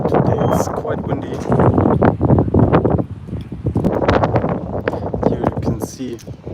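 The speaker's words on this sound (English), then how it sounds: "Today it's quite windy." Strong wind buffets outdoors beside seal pools, a loud rumbling gusting roar that rises and falls, with a person talking over it.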